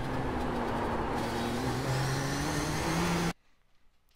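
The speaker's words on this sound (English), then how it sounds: "you can get back to full throttle here in second gear briefly as you come up toward turns two and three" A race car in the iRacing sim at Long Beach holds full throttle in second gear, its engine a loud, steady roar with shifting pitch for about three seconds before cutting off abruptly.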